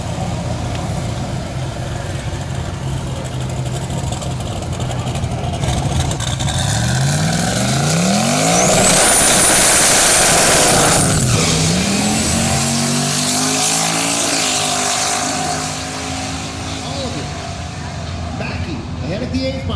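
Drag race cars roar down the strip in a heads-up semifinal, a loud sustained engine howl that swells and sweeps in pitch as a car passes close by, then fades.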